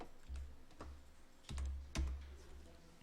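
Keys on a computer keyboard clatter softly during a spreadsheet lesson, a few scattered keystrokes with brief pauses over a low room hum.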